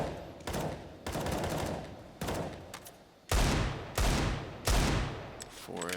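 Gunfire in Counter-Strike on the Inferno map during a competitive match: several loud separate shots and short bursts with sharp onsets spaced about a second apart, some ringing briefly, with no talk.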